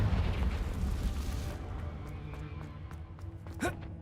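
A Confringo fire spell blast in a Harry Potter video game, a loud roaring burst that fades over a second and a half, followed by a sharp crackling impact near the end.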